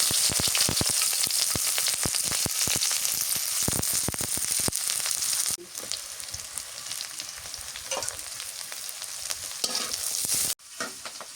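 Chopped onion frying in hot oil makes a loud, steady crackling sizzle with rapid spattering pops, easing somewhat halfway through and briefly dropping near the end.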